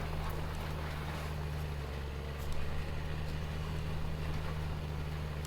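A big tractor in Farming Simulator 19 drives uphill pulling a large drill, its engine a steady, loud, low droning hum throughout with no talking.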